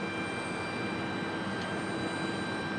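Airplane passing at night at Portland's PDX airport, a continuous broad engine roar with steady tonal whine, loud and unchanging throughout, no voices.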